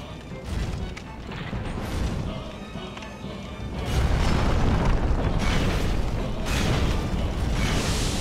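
A dragon breathing fire in the game Demon's Souls, a loud roaring rush of flame that swells and stays heavy and continuous, with a few louder bursts.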